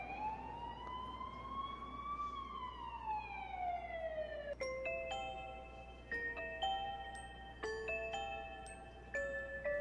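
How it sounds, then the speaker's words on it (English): An ambulance siren from a video game wails loudly and steadily, a long sliding tone that drops and then breaks into rapid alternating pitches, ringing over a low rumble with no voices. "It's the siren of an ambulance, probably transporting someone who got hurt."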